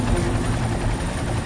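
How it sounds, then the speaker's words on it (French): A helicopter hovers over a river during a rescue, its rotor and engine making a steady, loud throbbing roar for a short moment with no voices. "L'hélicoptère lui envoie une bouée."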